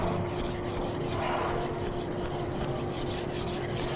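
A thinned kitchen knife is drawn repeatedly across a whetstone, making a steady rhythmic rasping scrape at close range with faint pulsing strokes and a thin tonal hum underneath, with no one speaking.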